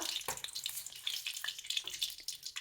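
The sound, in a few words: fenugreek seeds sizzling in hot coconut oil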